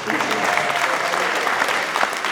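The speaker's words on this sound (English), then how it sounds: "give him a round of applause" Concert audience at a spring school band concert applauding a student musician, a steady, dense wash of clapping that stays loud and even throughout with no break.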